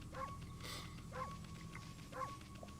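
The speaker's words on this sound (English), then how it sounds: "Here I'm, like, timing my barks to the rhythm of the low health noise" The wolf Amaterasu in the Okami video game barks three times at an even, regular pace, small yipping barks over a soft game-audio hum and a faint repeating tone.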